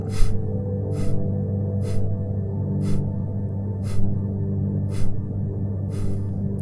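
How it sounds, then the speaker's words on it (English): Breath of fire yoga breathing: sharp, forceful nasal exhales about once per second, seven short bursts close up over a steady low background hum. "continue the abdominal contractions on the exhale with some breath of fire, breathing out once per second"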